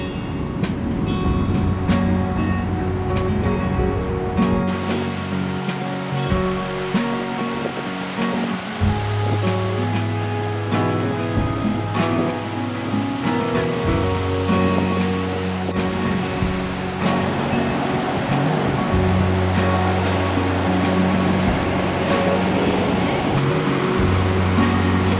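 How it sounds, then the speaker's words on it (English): Pacific Ocean surf at Santa Monica beach rolls in as a loud, continuous wash of breaking waves, steady roar throughout with no voices. "This is the Pacific Ocean"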